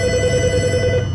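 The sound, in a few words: telephone ringing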